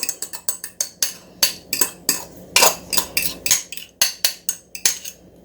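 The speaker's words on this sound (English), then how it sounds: "now we're going to take the fork and slightly beat this one" A fork beating a mixture in a bowl for pecan or walnut pie muffins: rapid, rhythmic clinks and scrapes of metal against the bowl, about three or four strokes per second, close and crisp with no talking.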